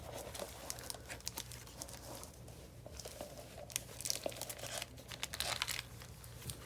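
Thin protective plastic wrap is ripped and crinkled off a Corsair Void Elite headset in a steady run of close, soft crackles and tearing rustles, with no voices.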